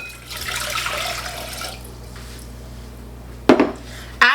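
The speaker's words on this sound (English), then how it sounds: "take your 3 cups of water and pour it into a bowl" Water from a three-cup measure poured into a bowl in a home kitchen while making cooking liquid for cabbage rolls, a steady splashing pour for about two seconds, followed by quieter handling and two sharp clinks of dishes.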